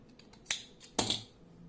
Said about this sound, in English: Now I am cutting the rope.